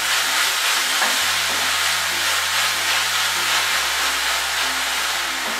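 Vegetables with salt and spring onion stir-frying in a pan over a medium-high flame for Schezwan fried rice, giving a steady, close, loud sizzling hiss that runs throughout with no talking.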